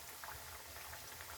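Sata sweets frying in hot oil over medium heat, a steady close bubbling sizzle that runs without pause and without any voices.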